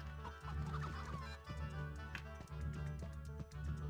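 Game chickens clucking on a ranch in Horsez: Ranch Rescue, a steady fowl chatter layered over looping background music with periodic soft taps, no talking.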